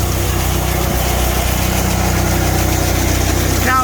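Seed treater pumps and an auger run steadily during seed treating, a loud continuous mechanical drone with a steady low hum and faint rhythmic pulsing.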